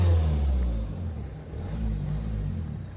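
A 2019 Mercedes A-Class in AMG Line trim revs its engine nearby, a deep, throaty rumble swelling at the start then settling into a steady mid-pitched drone.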